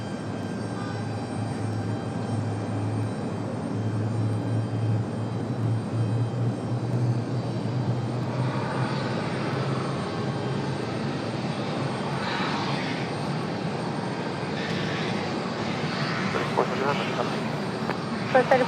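A Lufthansa airliner's engines drone and roar steadily at Raleigh-Durham airport, a loud sustained hum that builds slightly over time, with a person talking intermittently over it.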